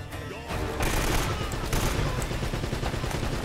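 A heavy gun firing in the action game Uncharted: Drake's Fortune produces a dense, continuous barrage of rapid shots with booming low rumble, loud and sustained after a brief quieter start.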